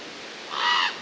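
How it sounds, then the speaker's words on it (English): A loud bird calls in a forest with a harsh, crow-like caw that swells for about half a second and then fades. It is close and prominent over a soft background hiss, with no talking. "that bird is so loud"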